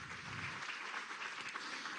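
An audience at a national journalism award ceremony gives a round of applause, a fairly faint, even wash of clapping heard from a distance with no speech.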